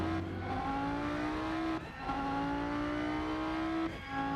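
Audi race car in the Rennsport racing simulator, engine droning steadily with rising pitch through gears, two brief drops at upshifts, loud and continuous with no talking.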